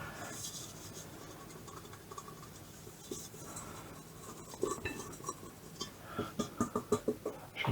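Someone scraping small hardened bits of basic white bread dough out of a bowl by hand, soft scratchy rubbing that turns into a quick run of sharp scrapes near the end, close and fairly quiet.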